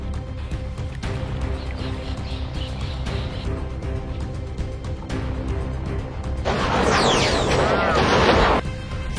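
Gunfire in a sniper film scene: a few sharp, widely spaced shots over a low rumbling score, then a louder burst of crackling noise near the end.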